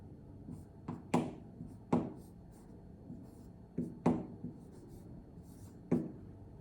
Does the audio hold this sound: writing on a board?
yes